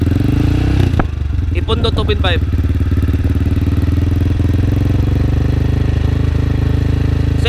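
A Motorstar Explorer 250 motorcycle fitted with an Akrapovic M1 exhaust idles at about 2,500 RPM close by, a loud, steady, throbbing exhaust note, with a person speaking briefly over it.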